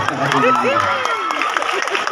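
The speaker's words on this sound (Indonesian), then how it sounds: "Boleh tepuk tangan buat mahasiswa." An audience claps for university students at a talk, a short burst of applause and crowd noise with a voice speaking over it throughout.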